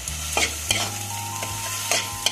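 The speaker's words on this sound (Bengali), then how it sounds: "দিয়ে এবার আমি এটাকে নাড়বো।" An oats momo filling with tomato sauce and soy sauce is stirred in a pan. Rhythmic spatula scrapes come every half second or so over a low sizzle, close and clear, with a faint steady hum in the background.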